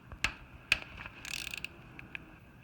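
Bolts being loosened from the camshaft holder of a Honda CBR650F engine with a ratchet, giving several sharp metallic clicks and light ratcheting, close and fairly quiet with no voice.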